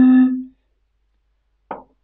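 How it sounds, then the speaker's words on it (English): A single low hollow tone from blowing across the mouth of the smallest bottle, a steady hum lasting about half a second before fading, followed by a short soft tap after a pause of silence. "So I noticed my smallest bottle makes a sound like this."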